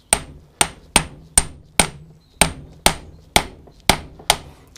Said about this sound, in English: I'm using a socket 32mm over the hub spline on the CV joint, just making sure it's square with the drive shaft, just tapping it on